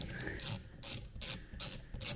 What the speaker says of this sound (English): So we've got a 15mm socket on there.